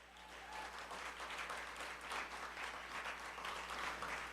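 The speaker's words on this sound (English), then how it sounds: "Please give them a round of applause." Audience applause after student leaders are thanked at a university student union state-of-address event, a steady wash of many hands clapping from across a hall, fairly distant and soft, continuing evenly for several seconds with no talk over it.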